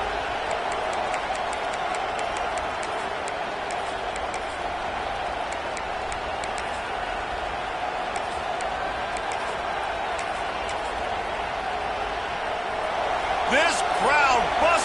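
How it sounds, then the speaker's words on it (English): A packed football stadium crowd at a Washington versus Michigan college game roars loudly and steadily, a dense, sustained wall of cheering and noise during a fourth-down play, with commentators speaking over it. "This crowd busting the decibel meter and trying to will a fourth down stop."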